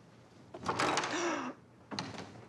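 Inside a house in Bowie, Maryland, a door leading to a porch is pulled open with a close, fairly loud scraping slide and a brief rising squeak. A shorter second clatter follows after a pause.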